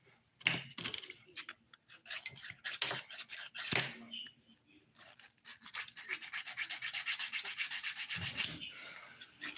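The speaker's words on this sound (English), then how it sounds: "So the hard nails are done now, the filing." Dip powder nails being filed, a dry raspy rubbing that comes in uneven strokes, then settles into a steady run of quick rhythmic rasps near the end.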